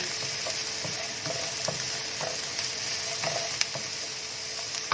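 Finely chopped capsicum stir-frying for Chicken Manchurian, a soft continuous sizzle with light scraping and occasional sharp ladle taps against the wok, no voices.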